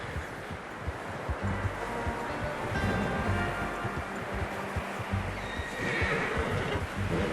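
A horse whinnies in the video game Red Dead Redemption 2 amid steady outdoor ambience, with hoof clip-clops and rustling in the background; the neighs rise out clearly several times.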